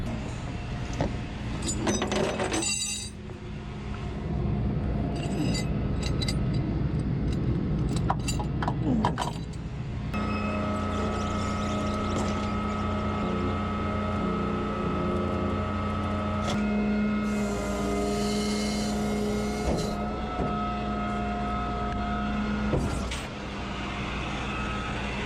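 A tow truck loads cars in a parking lot, its engine droning and hydraulics whining steadily, with metallic clanks and chain jangling near the start and later mechanical hums and a higher tone.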